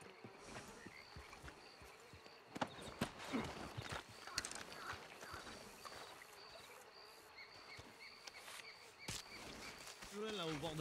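Horse hooves clip-clopping at a gallop in a western video game, a steady rhythmic patter under game ambience and frog croaks while people talk over it.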